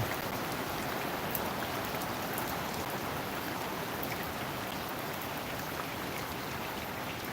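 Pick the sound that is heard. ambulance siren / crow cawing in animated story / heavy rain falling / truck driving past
heavy rain falling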